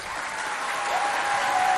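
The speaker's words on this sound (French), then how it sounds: "On l'applaudit bien fort." A school audience at a quiz contest claps steadily, a dense patter of many hands that swells slightly toward the end.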